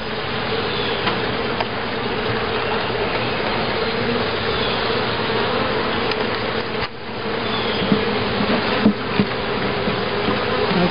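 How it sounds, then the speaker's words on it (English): A swarm of honey bees hums during a hive inspection, a dense, continuous buzzing close by with steady loudness and a few light knocks, no talking. "Couple puffs and usually they'll go down and start eating honey."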